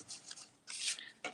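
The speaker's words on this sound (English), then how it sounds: "I'm just going to burnish it again because I want it to lay" A folded paper card is burnished flat with short, soft rubbing strokes, three quick close swipes over a quiet room.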